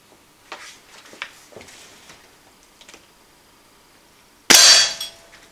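A Gamo Replay Magnum 5.5mm air rifle fires one sharp, loud crack near the end, after a stretch of soft handling clicks and rustles.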